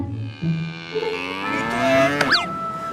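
A cow moos in long, drawn-out calls that rise and fall, ending with a higher-pitched bellow, loud and close with no talking over it.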